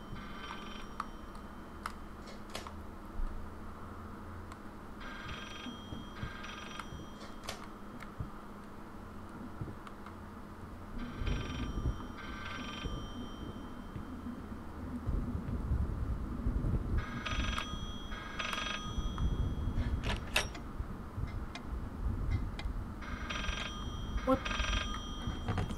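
A telephone rings repeatedly in the horror game Layers of Fear, bursts of electronic ringing recurring every few seconds amid faint ambience, footsteps and low rumbles, with occasional speech.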